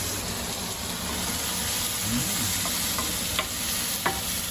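Onion and fresh capsicum fry in a pan, giving a steady, even hiss and sizzle from start to finish, with a few faint clicks of stirring near the end.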